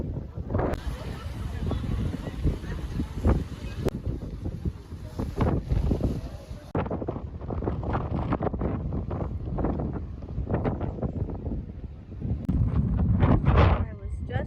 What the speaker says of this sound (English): It is very, very windy today. Sorry if you can't hear me.